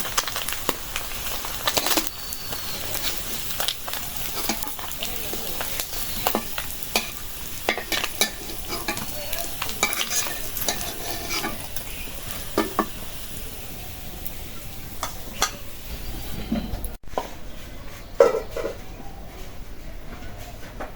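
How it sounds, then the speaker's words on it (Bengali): Small mixed river fish fry in a pan in a home kitchen, a steady close sizzle and crackle of hot oil running throughout with occasional stirring scrapes and clinks. "ভাজা হয়ে গেছে এখন উঠাই নেব"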